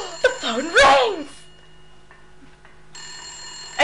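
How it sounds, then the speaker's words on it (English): A telephone in the Silent Hill video game rings with a bright, steady electronic tone that starts late, after a person speaks and the room goes quiet. "The phone rings!"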